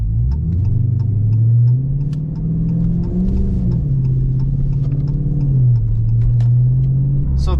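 A car with a newly installed loud aftermarket exhaust drones steadily while driving in normal mode with windows up, its engine note rising and falling as it shifts, heard from inside the cabin with faint ticking.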